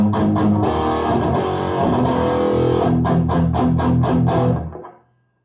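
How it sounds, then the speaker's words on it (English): An electric guitar played through a Mesa Badlander 25 amp head with a Seymour Duncan distortion pedal: loud, heavily distorted sustained chords, then a run of rhythmic choppy stabs, and finally a ringing chord that fades out. "I'm using a Seymour Duncan distortion here."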